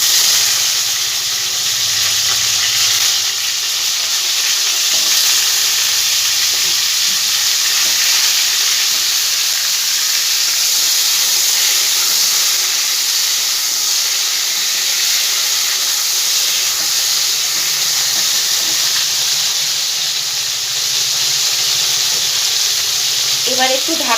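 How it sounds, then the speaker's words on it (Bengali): Eggplant pieces fry in hot oil in a pan for a spiced eggplant dish, giving a loud, steady sizzle and hiss that runs unbroken throughout, with no talking. "এবার বেগুনগুলো সব আমি ঠিক একইভাবে ভেজে নেব।"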